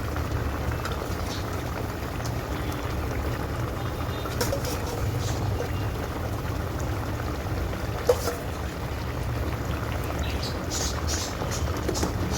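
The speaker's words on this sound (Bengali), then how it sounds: "এবার দিয়ে দেব ভেজে রাখা বেগুনগুলো।" Fried eggplant pieces go into a simmering Bengali khoira fish curry, giving a continuous soft bubbling and sizzling bed of liquid sound with faint scattered clinks, moderately quiet throughout.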